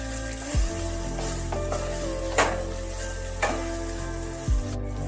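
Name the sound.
stirring prawn, ridge gourd and poppy seed mixture with onions in pan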